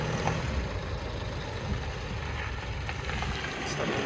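Mitsubishi Triton MY21 ute in 4-wheel drive climbing a dirt road off-road, with a steady low engine and tyre rumble up close throughout and no talking.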